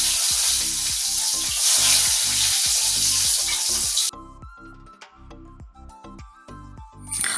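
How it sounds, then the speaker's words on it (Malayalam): Rice frying hard in hot oil with mustard seeds in a pan for a Kerala thoran, a loud steady sizzle with rhythmic stirring scrapes, then the sizzle dies away and only intermittent stirring and clinks remain. "നമ്മൾ ഇട്ട് കൊടുത്ത അരിയെല്ലാം നന്നായിട്ട് മൂത്ത് നല്ലോണം മൊരിഞ്ഞ് വന്നിട്ടുണ്ട്."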